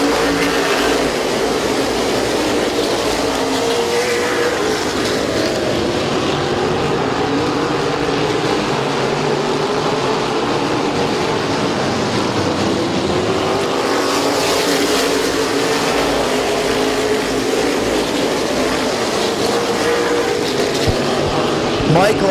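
Race cars roaring past on the track at Midvale Speedway, a loud steady engine drone that swells as cars pass, with a commentator talking over it throughout.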